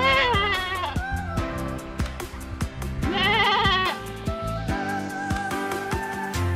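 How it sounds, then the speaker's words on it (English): A baby goat bleats repeatedly at close range at a desert eco lodge in Jordan, a run of wavering, quavering cries with short pauses and a steady background hum. "baby goat"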